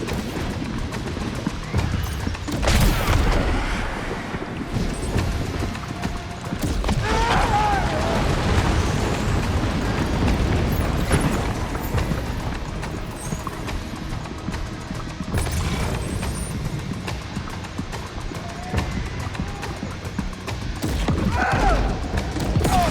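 Gunfire in the video game Death Stranding 2, a steady clatter of shots with heavy booms and crashes mixed into a dense, loud battle din that continues throughout.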